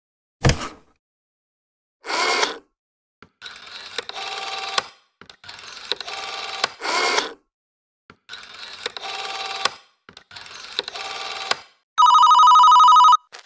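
Telephone rings and line tones from a radio drama sound in separated bursts: a click, a buzzing ring, several rattling mechanical rings with gaps, then a loud steady electronic tone at the end.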